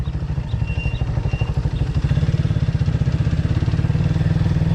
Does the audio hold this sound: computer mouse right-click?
no